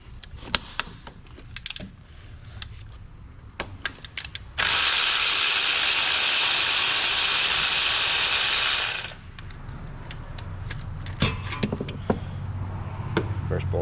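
A ratchet works loose an alternator bolt on a Dodge 4.7 V8, giving rapid clicking for several seconds, close and loud, among scattered tool clinks and handling noises.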